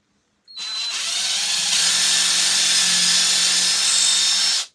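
A power drill whirs steadily for about four seconds at close range, a continuous high-pitched grinding buzz with no talking.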